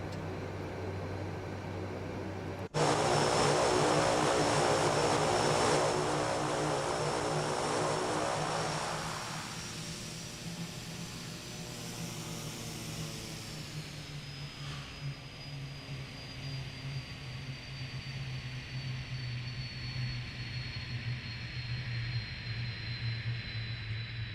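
The twin propeller engines of a Dornier Do 228 in Microsoft Flight Simulator 2024 kick up to a loud whirring drone, then wind down over several seconds, leaving a falling whine and a low steady hum.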